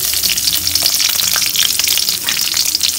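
Chilies and curry leaves fry in hot oil in a pan while making idli upma, a loud, close, continuous crackling sizzle with light stirring and no talk.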